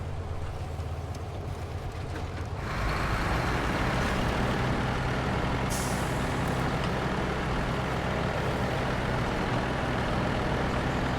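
A Paystar truck rolls along in SnowRunner, its heavy diesel engine rumbling loud and steady, swelling after a few seconds with a short hiss midway, and no talk over it.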